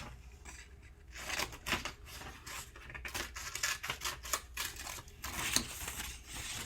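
Scissors cut out a paper pop-up card, giving close, fairly quiet, irregular crisp snips and rustling paper crackles in quick succession throughout.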